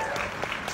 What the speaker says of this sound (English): I have to give him a massive applause, Paige Ripple.